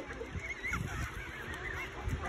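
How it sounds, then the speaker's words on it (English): Mallard duck calling at a lake, a few honking quacks over steady outdoor ambience, moderately near but not loud, with no talk. "Hello, Mr. Mallard."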